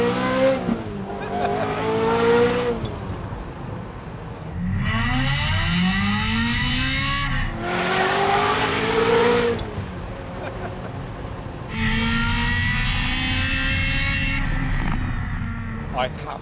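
Ferrari 355 fitted with a Capristo exhaust revving hard, engine pitch climbing and falling in repeated bursts with high-RPM wails between brief drops, loud and close, with occasional voices in between.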